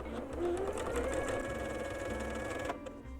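A sewing machine stitches quilt pieces together with a 1/4 inch seam, giving a steady quiet mechanical whir that runs for a few seconds and then cuts off, close and without speech.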